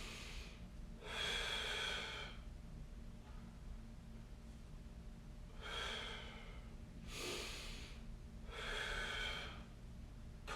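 Slow deep breaths during a floor mobility stretch for the thoracic spine and low back: several long, close inhales and exhales, evenly spaced and fairly quiet, with no talk.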